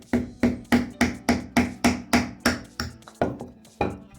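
A hammer drives a nail to pierce an aluminium soda can for an alcohol penny stove, about a dozen sharp, evenly spaced taps, close and ringing, slowing slightly toward the end.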